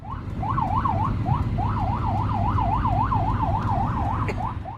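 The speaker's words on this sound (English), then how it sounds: "They were the regular sirens of emergency vehicles" An emergency vehicle siren wails in a steady, rapid rising-and-falling cycle, loud and continuous over a low road rumble, with a brief sharp click near the end.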